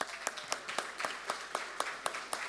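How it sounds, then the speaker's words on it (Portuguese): A small audience at a parliamentary session claps for the students present, individual hand claps rising as distinct, evenly spaced beats over a soft bed of scattered applause. "gostaria de uma salva de palmas para os estudantes aqui presentes"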